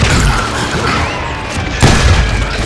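Gunfire in the Western shooter Call of Juarez: Gunslinger, a loud booming blast with heavy low rumble, followed by a second sharp crack near the end, close and dominant.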